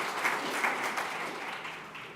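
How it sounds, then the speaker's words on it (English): Applause from an audience at a climate data general assembly greets a presenter taking the stage, a steady broadband patter of many hands that fades slightly toward the end. "Give her an applause."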